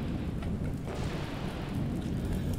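Steady rain with a low rumble of thunder roars in the survival video game Kainga, a dense, continuous downpour filling the scene with no voices.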